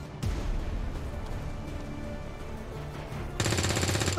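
Gunfire in the video game XCOM 2, a sharp shot at the start followed by a rumbling stretch, then a loud burst of rapid automatic fire near the end.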